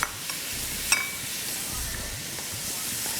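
Chicken tikka pieces sizzle steadily in a hot pan, a continuous close hiss with a couple of brief clatters as they drop in, and no talking.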